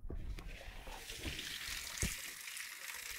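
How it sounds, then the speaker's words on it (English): Water runs from a tap in a steady, continuous rush with a bright hiss and a few small knocks, close by and moderately loud. "keep the water running"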